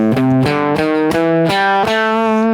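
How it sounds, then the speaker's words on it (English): A distorted electric guitar plays a short run of sustained notes one after another, each plucked note ringing clearly with no talking. "Blues scale sounds like this"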